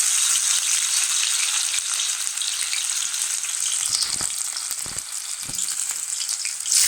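Chopped ginger sizzles in hot oil in a pan for a yoghurt chicken curry, making a steady, loud, close hiss with a few stirring knocks near the end and no speech.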